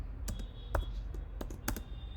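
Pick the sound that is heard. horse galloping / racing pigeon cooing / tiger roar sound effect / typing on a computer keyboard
typing on a computer keyboard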